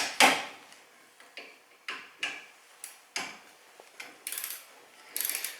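Torque wrench clicks and ratchets while tightening the brake caliper bracket bolts on a Mazda 3 2.3, giving a run of sharp, evenly spaced mechanical clicks, close and fairly quiet, with a couple of rattling bursts near the end.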